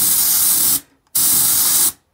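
Compressor-driven paint spray gun letting off two long, loud, steady hissing bursts, separated by a short silent pause.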